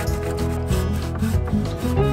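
Wood being cut and shaped into a replacement knee for a sailboat hull repair, a steady rasping, rubbing scrape that runs continuously and close up with no talking.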